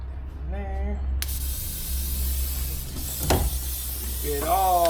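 Surface Shield sprayed from a spray bottle with a broken tip during a 2017 Chevy Equinox wheel bearing job: a steady hissing spray runs for several seconds with a brief louder puff, amid faint shop noise.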